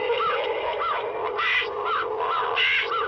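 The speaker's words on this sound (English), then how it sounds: "this is a creepy scarecrow, and he makes a noise too" A Halloween animatronic scarecrow lets out a steady run of raspy, electronic crow-like squawks, several repeated calls over a constant mechanical hiss, close and fairly loud.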